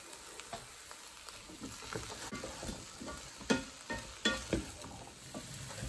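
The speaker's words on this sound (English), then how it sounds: "Just let your mince brown off." Beef or similar mince browning in a pan with onion and garlic for lasagne, a quiet steady sizzle with scattered spatula scrapes and a few louder knocks toward the end.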